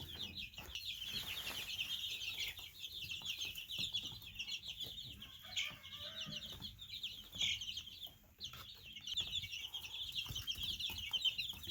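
Chicks peep and cheep continuously in a busy chorus, with scattered scratching and rustling noises around them.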